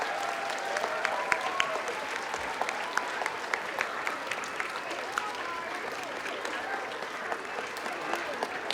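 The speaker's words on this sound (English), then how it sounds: "please give them a round of applause." An audience at a junior school assembly claps for the school coaches called up on stage, steady dense applause of many hands that stays even and sustained throughout.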